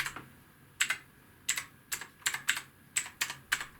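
Fingers typing on a ZX Spectrum computer keyboard, a run of crisp, close clacky keystrokes in quick uneven bursts, with no voices.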